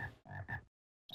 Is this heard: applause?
no